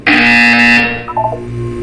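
A Portal 2 test-chamber buzzer sounds once as a loud, steady electronic buzz lasting under a second, then trails off into a few faint, wavering tonal chirps.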